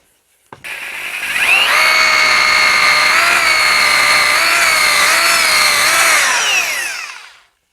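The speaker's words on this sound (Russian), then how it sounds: "сначала мы сверлим тоненьким сверлом, как бы центруем" A rotary hammer drills a hole with a thin bit while building a corner fireplace, a loud whining whir that spins up, holds steady with slight pitch wobbles for several seconds, then winds down.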